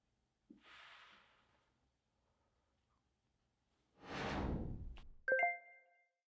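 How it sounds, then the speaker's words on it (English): A deep breathing exercise: a soft nasal inhale, a quiet held pause, then a longer, fuller breath out through the mouth, followed by a brief bright chime ringing out at the end. "I'm still going to be breathing in through my nose, out through my mouth, and holding in between"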